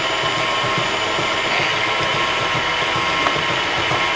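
An electric mixer beats cake batter for home baking, a continuous motor whir with a faint rhythmic knock, steady and fairly close throughout with no talk.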